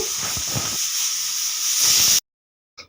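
A pressure cooker whistle releases steam in a loud, steady hissing blast for about two seconds, then cuts off abruptly, followed by a brief faint sound.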